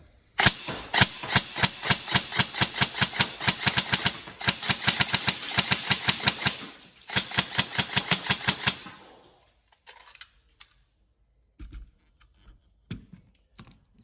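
A Tokyo Marui M4 airsoft electric gun with an NGRS system fires three loud bursts of rapid, evenly spaced shots, each burst lasting a couple of seconds, followed by a few faint clicks and handling noises.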